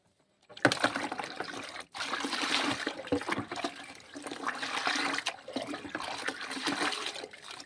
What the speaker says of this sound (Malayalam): ഇനി കുറച്ച് ഈ സൈഡിലേക്ക് കൂടി ഒഴിച്ചു കൊടുക്കാം